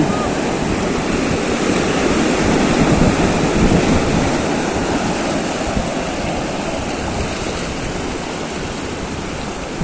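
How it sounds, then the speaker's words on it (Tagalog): Loud, continuous surf roars and crashes on the shore, a dense wash of water noise with steady wind across the whole stretch and no pauses. "Nalapitan na kami ng alon"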